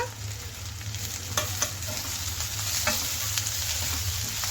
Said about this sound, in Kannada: ಈರುಳ್ಳಿ ಚೆನ್ನಾಗಿ ಫ್ರೈ ಆಗಿದೆ ನೋಡಿ, ಗೋಲ್ಡನ್ ಬ್ರೌನ್ ಬಂದಿದೆ ನೋಡಿ